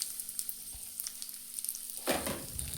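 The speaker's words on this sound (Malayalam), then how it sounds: "ബാക്കി വന്ന നെയ്യിൽ സേമിയ ഒന്ന് വറുത്ത് ഒന്ന് മൂപ്പിച്ചെടുക്കണം" Vermicelli roasts in leftover ghee for semiya payasam, a faint soft sizzle with light crackles that swells into a brief louder burst of frying near the end.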